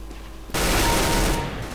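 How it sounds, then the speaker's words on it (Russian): A sudden burst of gunfire in the CS:GO shooter, starting abruptly after a quiet moment and holding loud and dense for about a second before easing. "По мне тут палят."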